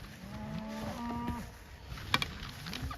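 Cattle moo repeatedly in a dry summer pasture with calves nearby, several drawn-out lowing calls rising and falling, with a short rustle or knock in between.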